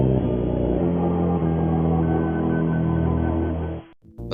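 Chain gun pickup effect from the game Spear of Destiny: a dense, loud digital burst sustained for about four seconds, then cutting off abruptly with a brief click at the end, heard alone.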